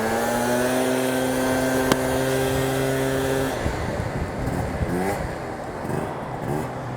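A Yamaha BWS 50 scooter with a Stage6 engine holds a steady, buzzing high-pitched engine note, then pulls away and the sound becomes rougher and fades into the distance.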